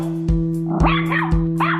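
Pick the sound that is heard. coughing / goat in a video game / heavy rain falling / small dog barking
small dog barking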